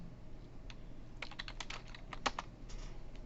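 Keys clack on a computer keyboard in a quick burst of soft, close taps, with a few isolated keystrokes before and after, over a faint steady room hum.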